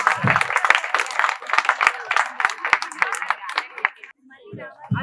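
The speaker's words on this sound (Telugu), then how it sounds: "ఒకసారి క్లాప్స్ కొట్టండి, కొంచెం ఎంకరేజ్ చేయండి" Scattered audience clapping at a film success celebration, uneven claps mixed with a voice speaking over them before fading into quieter sounds near the end.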